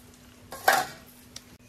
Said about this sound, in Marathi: आणि आता ठेवतोय मी झाकण